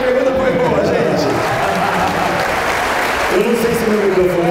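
A studio audience at a Brazilian talk show with a MasterChef guest claps for a good question, loud mixed applause heard under a continuing voice speaking over it.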